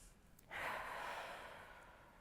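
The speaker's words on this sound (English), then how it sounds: "You just take a deep breath." A single deep breath, drawn in sharply and then let out in a long, steady exhale, close and alone with no talking.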